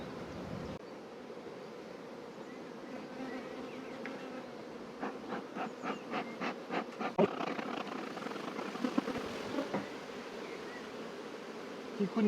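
Honey bees swarm around an open hive, making a dense, continuous close-up buzz. Occasional louder passes and faint handling taps sound over the hum.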